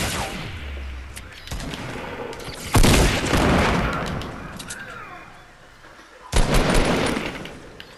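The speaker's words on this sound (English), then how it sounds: "They're shooting at me!" Fortnite gunfire: bursts of rapid shots and heavy booming blasts rolling through a squad match, loud and close, with explosive hits near the three- and six-second marks.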